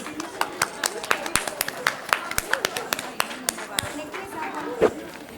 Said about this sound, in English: Shall we welcome them with a big round of applause?